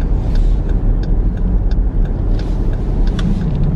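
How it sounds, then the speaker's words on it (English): A car on the road passes through steady, loud broadband road and engine rumble that holds evenly throughout with no talk. "this car behind me is coming up behind me awfully quick"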